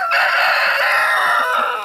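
Chickens and a rooster in a farm chicken run, clucking and squawking close by in a dense, continuous chorus with no talk.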